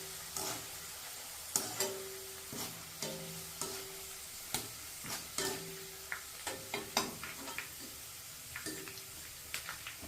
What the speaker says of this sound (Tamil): இப்போ தட்டி வச்ச பூண்டு 10-12 பல் பூண்டு தட்டி வச்சிருந்தோம்ல அதை போட்டுக்கலாம்